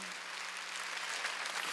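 A church congregation applauding during a Korean Wednesday worship service, steady dense clapping that holds evenly throughout, fairly distant in a large hall, with no talk over it.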